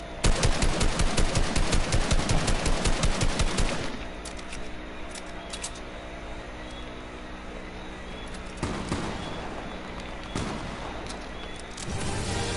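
Drum gun in a video game: a loud, rapid burst of automatic fire for about four seconds, followed by scattered single shots and short bursts amid quieter game noise.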